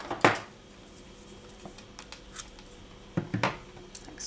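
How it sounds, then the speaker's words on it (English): Scissors snip the end off a bracelet cord, two crisp cuts close by with small handling noises between, no talking. "So I just need to trim off the end here"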